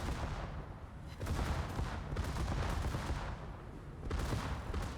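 Secondary guns on a warship in a naval battle game fire in dense, continuous bursts, loud and close, with a few surges of heavier volleys throughout.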